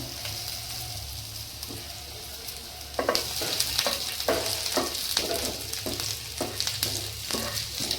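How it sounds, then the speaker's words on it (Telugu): Garlic and ginger sizzle in hot oil in a pan for a vegetable soup, a steady frying hiss that swells louder partway through, with repeated scraping stir strokes and no voices. "ఇప్పుడు వెల్లుల్లి వేసుకుందాం, తర్వాత అల్లం వేసుకుందాం,"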